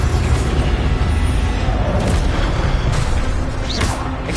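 An Incendio fire spell is cast in Hogwarts Legacy, bursting into a loud, dense roaring whoosh that fills the whole short stretch, with crackling flares on top.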